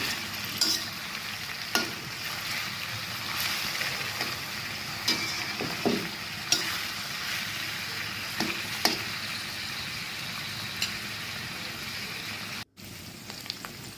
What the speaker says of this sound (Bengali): সেই একই তেলে এবারে লাউয়ের খোসাগুলো ভেজে নিচ্ছি